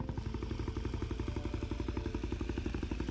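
A KTM Superduke 990 V-twin engine idles close by with a rapid, uneven pulsing beat and mechanical clatter, steady and unbroken throughout.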